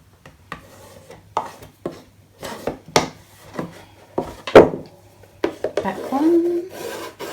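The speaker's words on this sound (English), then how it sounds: "I'm just going to burnish my little strips again." Paper strips being burnished down onto a handmade cardboard book box, heard as close, soft rubbing and rasping strokes with occasional taps, interspersed with brief quiet speech.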